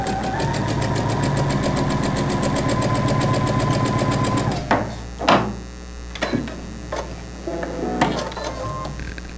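A sewing machine runs steadily in a quilting session, sewing a nine-patch block with a quarter-inch seam; a continuous whirring stitch for about four and a half seconds, then stops, followed by a few sharp clicks and handling knocks.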